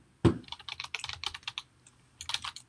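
Keystrokes on a computer keyboard as someone types in login details for a GoDaddy domain account, a quick run of close, crisp clicks in short bursts with a brief pause before a final flurry.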